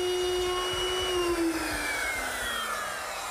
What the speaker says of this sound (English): I use my router, which is equipped with a V-grooving bit, and this fence to guide it along the side of the cabinet